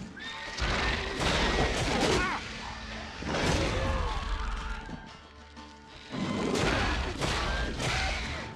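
A horse neighs and whinnies repeatedly, loud and close, over rumbling booms and crashes of The Witcher 3 game soundscape.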